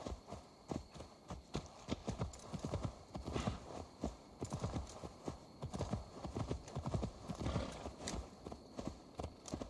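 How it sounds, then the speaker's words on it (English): Horse hooves clip-clop in a steady walking rhythm across the hills in Assassin's Creed Valhalla, close and distinct over a low ambient hum, with no talk over them. "Oh, this horse in the hills, man."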